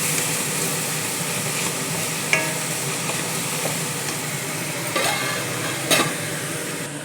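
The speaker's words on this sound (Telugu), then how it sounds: "కొంచెం ఎర్రగా వేయగా టమాటాలు వేసుకొని వేయించుకోండి" Tomatoes and onions frying and being stirred in a pan, a steady sizzle with a few sharper scrapes and knocks of the spoon, close and moderately loud, with no talking.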